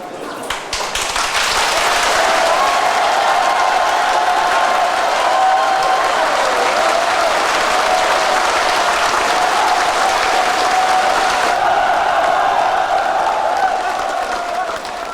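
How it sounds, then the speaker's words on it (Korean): High school students rally before their university entrance exam, a loud, dense wall of applause and roaring cheers filling the room for the whole stretch, close and sustained, with voices blended into the crowd noise. "우렁찬 함성과 박수로 용기를 북돋운다."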